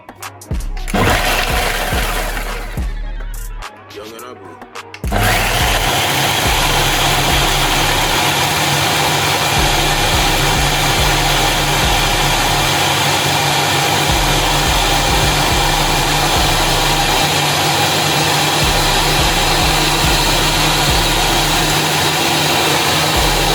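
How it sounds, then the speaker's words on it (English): A blender dry-blends chilli and garlic, first whirring and rattling unevenly for a few seconds, then settling into a loud, steady, close motor drone that continues unbroken to the end. "we're going to blend this up, just straight dry blend it, just to help break it down a bit more"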